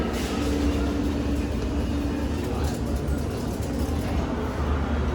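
A London Underground train stands at the platform, filling the space with a steady, loud rumble and hiss that continues without a break, with faint voices blending into the noise.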